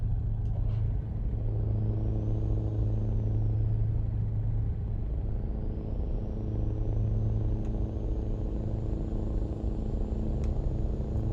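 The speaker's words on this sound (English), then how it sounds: "We've got a modded engine in this, which has its own sound." Modded truck engine in a driving video game, a steady low rumbling drone held throughout with slight swells in pitch as it cruises, fairly loud and continuous, with no talking.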